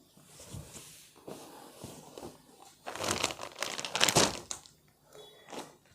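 Cloth nightgown fabric is folded and crumpled by hand, giving soft, irregular rustling and crinkling bursts that grow louder in the middle, heard close and quiet with no talking.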